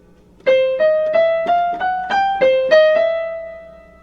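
A sustained piano chord rings while a quick run of single notes climbs over it, about eight evenly spaced notes from the bridge of the tune, then the last note and chord fade out.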